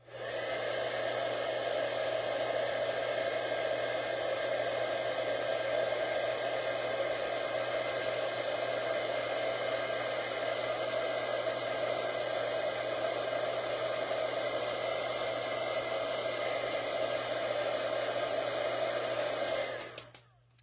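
An embossing heat tool blows a steady, loud whir of hot air onto a card, melting embossing powder. The even rushing hiss holds unbroken for about twenty seconds, then cuts off abruptly at the end.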